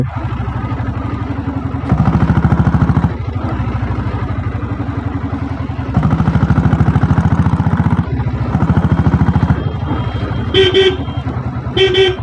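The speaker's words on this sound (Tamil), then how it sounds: "வண்டி பிக்கப்பு சூப்பராக இருக்குது ஃப்ரெண்ட்ஸ்." A 7.5HP self-start diesel Royal Enfield Bullet motorcycle runs nearby with a loud, rapid thumping engine beat that surges as the throttle opens, followed near the end by a few short horn toots.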